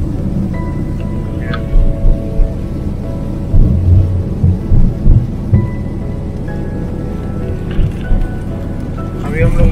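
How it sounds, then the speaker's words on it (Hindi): Heavy rain pelting a car on a road trip from Haridwar to Noida, a steady wash of drumming with low thuds and rumbles, while people talk over it inside the vehicle. "तो बारिश तेज होती जा रही है"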